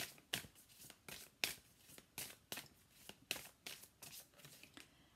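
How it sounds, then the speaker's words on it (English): Tarot cards are shuffled by hand in a quiet room, giving a steady series of soft, crisp riffling flicks about twice a second, close and fairly faint. "So let me just pull a couple more cards."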